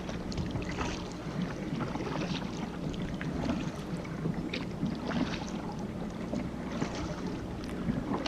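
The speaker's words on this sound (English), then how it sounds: "paddling out of a long cove." Paddle strokes and water sloshing as a small boat moves out of a long cove on Glen Charlie Pond in early June, a steady close wash with light wind noise and no voices.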